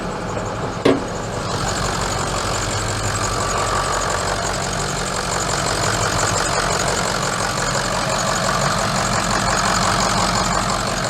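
An old pickup truck engine idles steadily nearby, a low, even rumble with a slight knocking texture and a brief click near the start, no voices over it.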